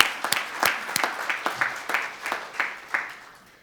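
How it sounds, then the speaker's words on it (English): Sparse, scattered clapping in a conference room at a CRC conference session, a handful of distinct claps ringing out one after another rather than a dense ovation. "a huge round of applause for the CRCs here today in the room"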